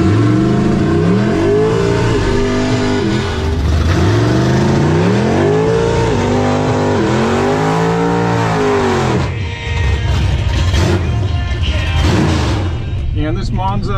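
A full-on Monza drag race car launches at the drag strip, its loud engine climbing through repeated rising revs and gear shifts, close and dominant, with a voice talking over it.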